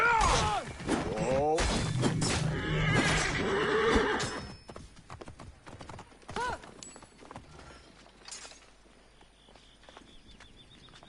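Horses in Assassin's Creed Origins whinny loudly several times over clattering hooves, the neighs dense in the first few seconds, then sparser hoofbeats and a last whinny trail off against quieter background.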